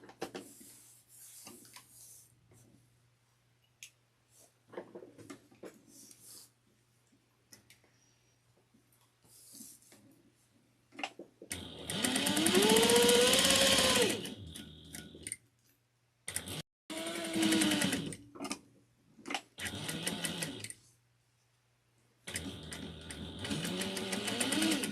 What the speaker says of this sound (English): we are going to top stitch this in place at 1/8 of an inch